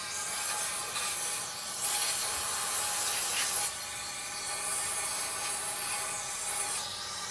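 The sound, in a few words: aerosol cleaner spraying into throttle body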